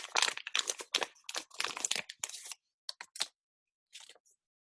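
A paper UK £20 banknote crinkled and rustled in bursts of sharp crackles, close up, then a few isolated crisp snaps before it goes quiet.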